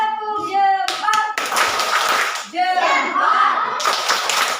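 A class of children claps hands in rhythmic bursts during a thumb-clap chant in an Indonesian classroom, sharp claps alternating with sung and spoken voices.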